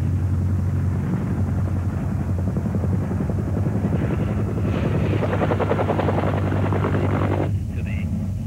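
Steady loud thump of Marine Cobra attack helicopter rotor blades with a droning engine, continuous and close, the chopping rhythm running through the whole stretch.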